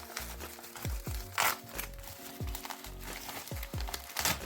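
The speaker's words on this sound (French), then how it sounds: "Il y a encore du papier bulle dedans." A package cushioned with bubble wrap being unwrapped by hand, close crinkling and rustling of plastic with repeated short crunches and tearing bursts, continuous under a faint background hum, with no clear talking.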